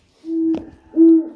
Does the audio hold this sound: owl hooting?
yes